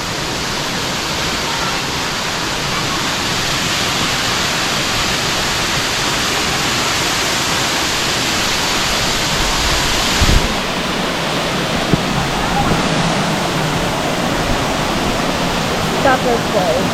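Scatter Falls waterfall at Ng Tung Chai, a steady broad roar of falling water that fills the whole stretch without let-up, loud and close, with faint voices of hikers nearby.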